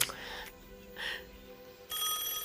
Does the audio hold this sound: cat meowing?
no